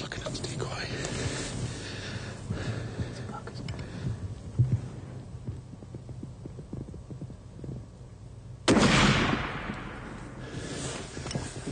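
A hunting firearm fires during the deer season opener in Clare, Michigan: one loud, sharp blast that rings out and decays, following a stretch of hushed whispering and quiet rustling outdoors.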